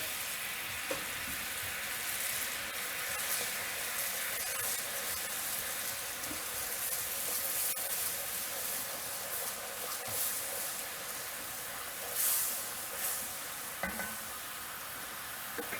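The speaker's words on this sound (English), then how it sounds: "I'm going to let this simmer a bit. I'll let it reduce down naturally." Sauce with about a third cup of sake simmers and reduces in a pan, a steady broad sizzle and bubble running throughout with a few faint stirring clinks, no voices.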